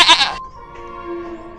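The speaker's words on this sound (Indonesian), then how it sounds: "Berkaitan dengan kambing" A goat bleats once, a loud close wavering cry that opens bright and breaks off, then trails into a softer, thinner tail of the call.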